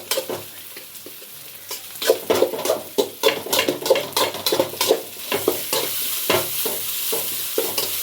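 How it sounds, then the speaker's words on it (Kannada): Ginger paste roasts in a pan, with a steady soft sizzle under repeated scraping strokes of a spoon stirring it, close and fairly loud with an uneven rhythm. "ಪೇಸ್ಟ್ ಹಾಕ್ಕೊಂಡು ಇದನ್ನು ಸ್ವಲ್ಪ ರೋಸ್ಟ್ ಮಾಡ್ಕೊಳ್ಳಿ. ಸ್ವಲ್ಪ ಶುಂಠಿ ಹಸಿ ಹೋಗೋವರೆಗೂ ಬೇಯಿಸ್ಕೊಳ್ಳಿ."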